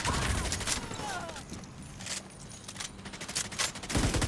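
Gunfire in The Division 2, with rapid bursts of shots over a dense, busy game soundscape. Scattered shots continue throughout, loud and close.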